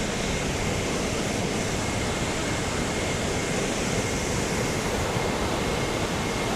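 Millaa Millaa Falls in Queensland pours in full flow, a dense, constant roar of falling water close by that fills the whole stretch without a break and without voices.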